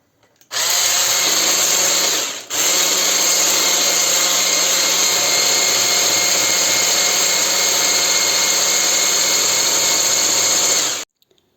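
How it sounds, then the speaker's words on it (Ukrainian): An electric mixer whips swollen gelatin into a marshmallow-like glaze, giving a steady, loud motor whine that runs almost without a break, with one short dip partway through. "Додаємо сюди оцей набухлий желатин і просто це все збиваємо."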